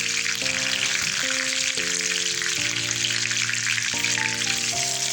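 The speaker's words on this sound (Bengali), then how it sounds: "একটু আমি নেড়ে চেড়ে এটাকে একটু ভেজে নিব" Mustard seeds, cumin and curry leaves fry in hot oil with a dense, steady sizzle, while melodic background music plays along the whole time.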